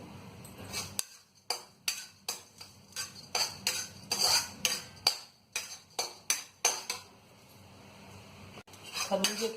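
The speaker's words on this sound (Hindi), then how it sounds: "और खरबूजे की मींग हमारी भून रही है।" Melon seeds roasting in a metal pan give rapid rhythmic scraping and clinking from being stirred, close and fairly loud, in bursts with short pauses.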